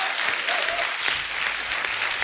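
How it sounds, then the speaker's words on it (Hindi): A studio audience on a comedy talk show breaks into loud, continuous applause that stays dense and even, with a few muffled voices beneath it. "इसके लिए तालियां बनती पहले तो।"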